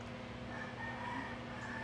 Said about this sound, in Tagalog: Naririnig nyo ba yung manok, guys?